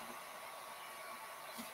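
A hair dryer blows steadily, drying a guitar being upcycled, a constant close whooshing hiss with no talk.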